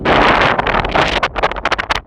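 Strong wind roars and buffets the microphone in loud, gusty bursts, rising and dropping in quick surges.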